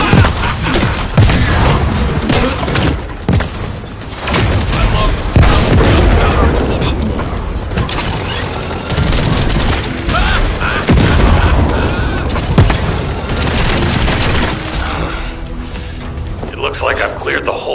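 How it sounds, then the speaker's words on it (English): Repeated booming blasts from time bombs in a video game, loud and dense with several heavy hits, with a voice talking over them. "Time bomb!"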